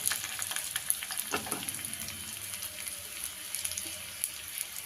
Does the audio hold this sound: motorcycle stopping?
no